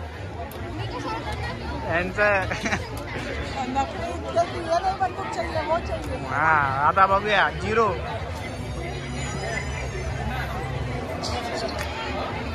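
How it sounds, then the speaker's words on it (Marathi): A dense crowd fills the Nirmal fair (jatra) in 2024, with steady babble of many voices and shouts close and all around, while nearby people talk over the hubbub. "एवढी गर्दी वाढली मेल्यामध्ये"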